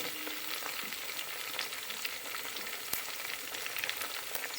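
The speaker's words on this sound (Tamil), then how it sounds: "இதை நல்லா வதக்கிக்கலாம். இந்த புதினாவோட கலரே மாறணுங்க." Mint leaves sauté in a pan with a steady, close sizzle of hot oil that carries on evenly throughout, with no voices.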